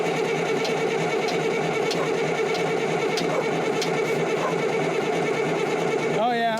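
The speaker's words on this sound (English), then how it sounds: "when you pump this, you can hear it, it's sucking from the inlet of the fuel filters" A hand fuel pump on a track loader draws fuel through the inlet of the fuel filters, a steady mechanical whir and rattle under a constant engine-like drone with faint periodic clicks.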